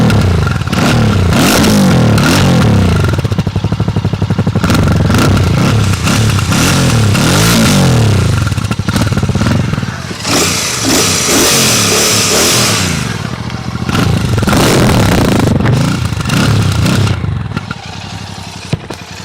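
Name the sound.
Royal Enfield Classic 650 Twin motorcycle engine revving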